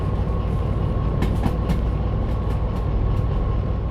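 A steady rumbling train drone with a constant hum, plus a few faint rhythmic clicks, from a locomotive running in the game Derail Valley.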